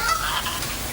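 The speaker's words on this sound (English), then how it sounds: "It's your geese." A brief burst of goose honking, harsh and nasal, sounds close by in a single short flurry.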